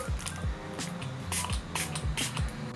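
Catrice setting spray is pumped onto a bar of soap in a series of short, close, hissing bursts, about five or six spritzes at a quick, even pace.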